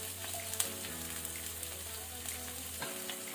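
Green chili and spring onion sizzle in hot cooking oil, a steady crackling fry that holds at moderate loudness and breaks into brief louder spits, with no talking.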